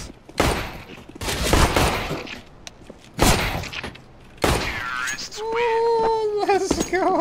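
Glock pistol fire in a video game match, sharp shots in several bursts at close range, with a player talking over them and tonal game sounds near the end.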